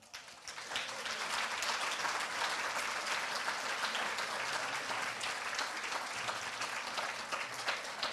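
Sustained applause from an audience at a School of Dentistry declaration ceremony for the class of 2022's new dentists, a steady dense wash of many hands clapping that fills the whole stretch without a break.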